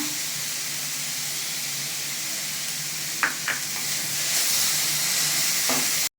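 Chopped capsicum fries in a hot pan for a paneer roll filling, giving a steady, even sizzle and hiss with a few sharp clinks of a utensil against the pan before it cuts off abruptly.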